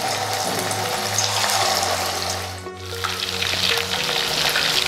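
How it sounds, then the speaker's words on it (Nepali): Buffalo sekuwa meat deep frying in hot oil at home, a steady dense sizzle and bubbling that runs close and loud throughout with a brief dip midway. "यो अब हामी 1-2 मिनट डिप फ्राई गर्छौँ, त्यसपछि यसलाई हामी निकाल्छौँ"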